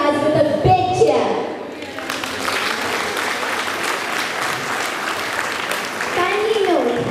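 Applause and cheering from a school audience after a children's cultural dance performance, with a dense sustained roar of clapping for several seconds, framed by an announcer's amplified voice at the start and end.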